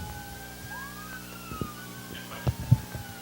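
Police sirens passing outside a building during a Q&A session, a rising and falling wail fairly faint in the distance, with a few thumps and knocks nearby and no talk.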